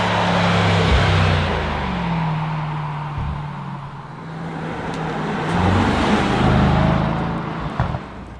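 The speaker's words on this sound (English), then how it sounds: "And that was the race start in the Sports Plus mode." A 621 hp 2021 Mercedes E63 S AMG launches hard from a race start in Sports Plus mode, its engine climbing through rising gear pulls with brief shift breaks, loud and close from inside the cabin.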